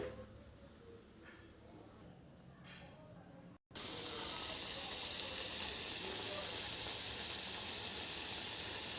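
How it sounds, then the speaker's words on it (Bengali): Cabbage pakoras deep-frying in hot oil: a quieter hiss gives way, after a brief cut, to a loud, steady, dense sizzle. "এই যে আমার পকোড়াগুলি ভাজা হচ্ছে"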